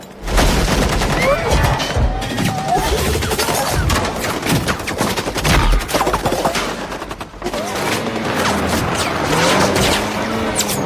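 A sustained barrage of gunfire, rapid overlapping shots and bursts crackling continuously, loud and dense with a brief lull midway.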